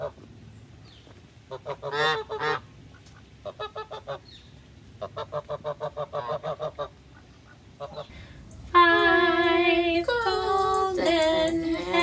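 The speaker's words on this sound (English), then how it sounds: "Six geese are laying." Geese honking in a series of short, repeated nasal calls, some in quick clusters, followed by a louder, longer burst of overlapping honks near the end.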